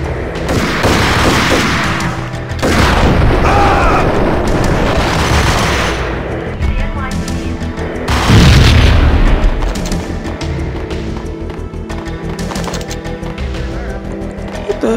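Grenade blast in the Max Payne shooter on PS4, a loud booming detonation with rumbling gunfire-like bursts around it, dense and sustained, with a heavy low thump near the middle.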